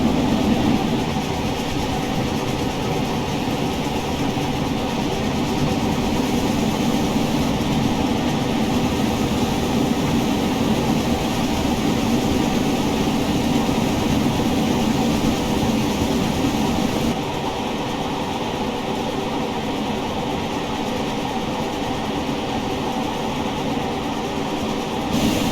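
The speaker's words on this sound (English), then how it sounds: "Just have to make sure that with all those scenery shots I don't derail my train" A train rolls steadily along rails in the Train Sim World game, a dense continuous rumble of wheels and engine that stays loud and even throughout, with a slight drop in level partway through.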